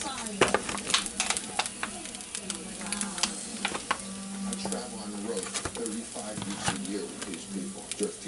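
Breakfast sandwich ingredients, a flipped patty with ham added alongside, frying in a pan, a moderate crackling sizzle with clicks and utensil taps, a voice talking over it.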